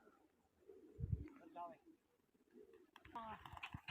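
Pigeons coo in a couple of short warbling phrases, with a dull thump near the start and outdoor background noise, while people speak nearby.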